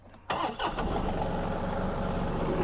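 A FECON RK5015 tractor engine starts with an abrupt crank and catch. The engine then settles into a steady, loud, close idle with a rough mid-range rumble.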